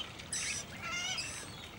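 Birds call with bright chirping bursts at a bird sanctuary on land kept healthy with water, two clear call phrases rising over a steady background hum, fairly close and moderately loud, with no voices.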